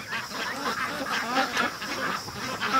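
Ducks gathered in the center of a barn pen quack and chatter in a continuous, overlapping chorus, fairly close and steady throughout.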